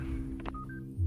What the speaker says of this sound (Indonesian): sebuah telepon muncul dari seorang klien yang ingin memesan jasa Frank